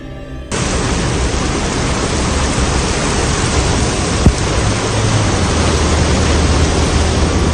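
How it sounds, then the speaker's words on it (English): Heavy rain pours down in a fierce storm as a loud, dense roar that starts abruptly and holds steady, with a single sharp crack near the middle. "Heavy rain accompanied by fierce storms."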